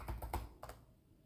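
Keys tap on a Lenovo Legion 5 gaming laptop keyboard as a password is typed: a quick cluster of three or four close, crisp clicks, a short pause, then one more pair.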